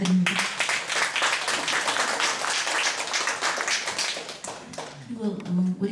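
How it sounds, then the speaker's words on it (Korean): An audience at a Busan vocal-music society concert applauds, with brisk, dense clapping that holds steady for several seconds, and a voice speaks briefly at the start and again at the end. "대표님 박수 부탁드립니다"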